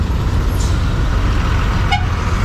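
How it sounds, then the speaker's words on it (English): A brief vehicle horn honk sounds once in the distance over a constant loud rumble of road traffic near a train station in Sri Lanka. "We got a honk out of him."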